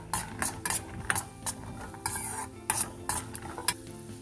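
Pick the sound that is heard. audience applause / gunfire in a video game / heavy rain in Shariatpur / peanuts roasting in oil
peanuts roasting in oil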